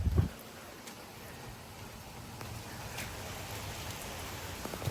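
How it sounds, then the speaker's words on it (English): Heavy rain pours steadily during a severe thunderstorm with 45 mph wind gusts in Frisco, Texas, a dense continuous hiss with a few sharper drop hits and a brief thump at the start. "Oh my gosh, look at this rain."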